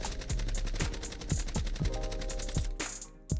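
Video game weapon fires rapid automatic bursts, a dense rattling string of loud gunshots with a few heavier thumps, cutting off briefly near the end before another shot.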